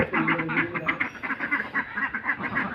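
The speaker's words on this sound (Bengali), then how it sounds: "এই যে অরূপের হাঁস সকালবেলায় প্যাক প্যাক" Ducks quacking in the morning at a home mini zoo, a rapid string of repeated nasal quacks close by, continuing steadily for a few seconds with no talk.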